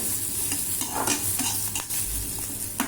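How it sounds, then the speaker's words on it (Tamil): Onions sauté in ghee with a steady sizzle, broken by close scraping and stirring strokes of a spoon in the pan. "அதுவும் 2 அந்த நெய்லேயே வதங்கினா நல்லா வாசனையாக இருக்கும் சாப்பிட்றதுக்கு"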